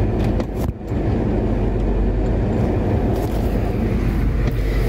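A 1990 Ford F Super Duty truck with a ZF5 manual gearbox and a clutch that will not release drives with a loud, steady engine and road rumble, close and continuous, after a brief dip near the start.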